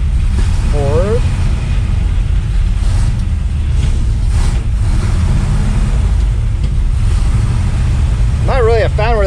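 A 1961 Pontiac Laurentian with a four-speed manual and oversized carburetor cruising after shifting through the gears, a constant loud low engine drone with road and wind noise, with someone talking briefly near the start and end.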